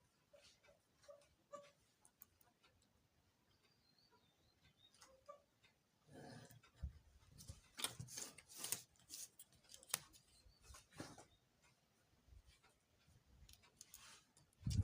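Scissors cutting through joined fabric pieces for a sling bag: a few soft snips at first, then a cluster of louder, crisp close-up cuts with light rustling and quiet pauses between.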